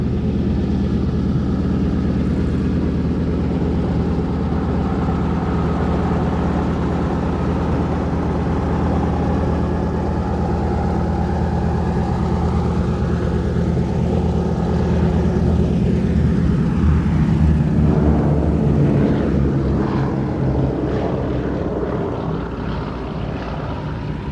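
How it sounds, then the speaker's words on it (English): A Boeing B-17G Flying Fortress rolls at an air show, its piston engines and propellers giving a loud, steady drone with a deep low rumble that swells slightly toward the end, with no voices. "here it is on the roll, the Boeing B-17G Flying Fortress"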